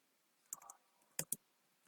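Short bursts of clicks as a chat message is typed on a computer keyboard, two small clusters of keystrokes close by in a quiet room.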